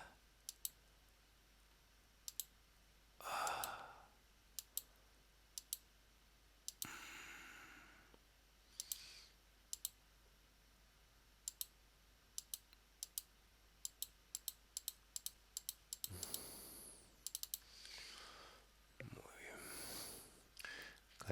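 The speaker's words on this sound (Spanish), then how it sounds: "Hago los clics que hagan falta." Sharp mouse clicks, made while tracing a polygonal lasso selection in Photoshop CC, come in scattered single and paired taps across the stretch, close and fairly quiet, with a few soft breathy noises between them.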